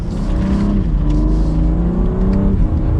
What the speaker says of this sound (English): as we give it a little bit of gas here